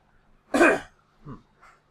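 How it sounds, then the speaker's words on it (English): One sharp, close cough, then two softer throat-clearing coughs, with silence between them. "I apologize for the coughing."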